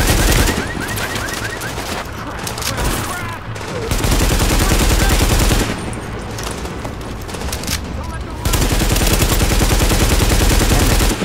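Heavy automatic gunfire in Tom Clancy's The Division video game, loud sustained bursts with brief lulls between volleys, and someone talking at times over the shooting.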